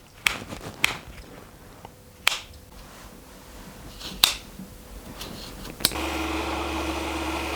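A handmade folding knife with an iron blade snaps open and shut several times, giving sharp metallic clicks at irregular intervals over quiet room tone, followed by a steady low hum of machinery at the end.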